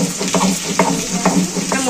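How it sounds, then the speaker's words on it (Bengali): Dry-roasted red chillies, black pepper and cumin are ground on a stone slab with a grinding stone. Rhythmic gritty rubbing strokes repeat about every half second, close up, with no voices. "সেটাকে এবার শিলনোড়ায় বেটে নেব।"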